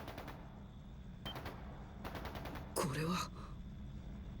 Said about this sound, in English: まさか銃声なのか。